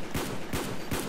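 A Dragunov sniper rifle in Black Ops II, fired with a turbo controller: three loud, evenly spaced shots about a third of a second apart, each with a sharp crack.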